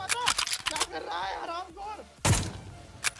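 Sniper rifle shots ring out in the mobile battle royale game BGMI, a few sharp, loud cracks with game sounds and a voice talking between them.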